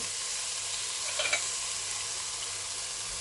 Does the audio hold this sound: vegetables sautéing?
yes